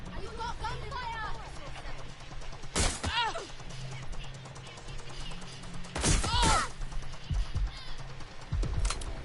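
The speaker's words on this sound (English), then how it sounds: "You got gunfire." Gunfire from a video game breaks out in two loud bursts a few seconds apart, sharp crackling shots standing out over steady background noise while a voice talks in between.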